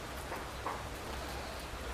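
Steady rain falls close by in a house, a continuous hiss of drops on a surface throughout, with no talk over it.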